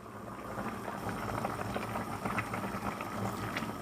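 A pot of goat meat pepper soup at a rolling boil, thick steady bubbling and popping heard up close, constant in level for a few seconds with nobody talking.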